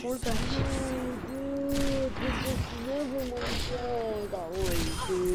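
Rapid gunfire in an Overwatch custom game with Hanzo and Widowmaker, repeated shots crackling over a steady game soundtrack with sustained tones, while players shout and laugh over it.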